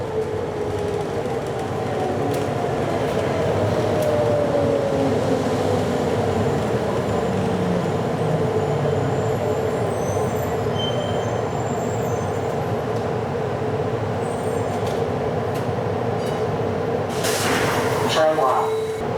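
A Miami Metromover train on the Inner Loop rolls along with a steady rumble and a faint rising whine, close and continuous, with brief brakes or door sounds near the end.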